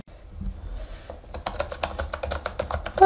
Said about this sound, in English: And I understand it has like kind of